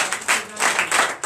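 Applause from a church congregation at a Sunday worship service in Comè, Benin, a short burst of clapping that swells and dips in waves, moderately loud and close.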